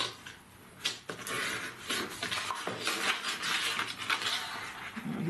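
Scissors cut through two stacked sheets of scrapbooking paper at once while a baby-boy pop-up album page is being made, giving a close, dry run of snips and paper rustles with some light tapping and clinks on a work table.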